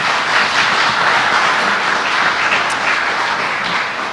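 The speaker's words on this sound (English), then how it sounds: "a round of applause for the panel" Loud, sustained applause from a conference audience greets a policy panel, dense even clapping that holds throughout and tapers slightly at the end.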